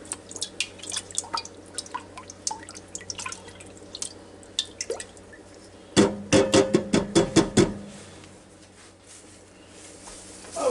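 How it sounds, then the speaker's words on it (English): Half a cup of apple cider vinegar poured into a Ninja Foodi pot, a short burst of close splashing liquid lasting about two seconds after scattered small drips and taps. "And now we'll take this half a cup of apple cider vinegar and dump down in there."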